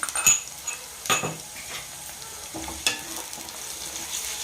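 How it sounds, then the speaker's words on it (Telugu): Ridge gourd curry sizzling in a pan with ginger garlic paste and onion: a steady frying hiss with a few clinks and scrapes of a stirring spoon against the pan, close and moderately loud, without speech. "అల్లం వెల్లిపాయ పేస్ట్ వేసుకొని చక్కగా ఇలా వేయించుకున్నాం"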